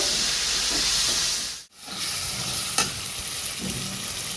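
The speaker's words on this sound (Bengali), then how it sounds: "এবার একটুখানি মিশিয়ে নিই মশলাগুলো সব একসাথে।" Spices and white sesame seeds being stirred in a hot frying pan make a loud, continuous hissing sizzle up close, with soft scraping of the spoon and a brief drop-out partway through.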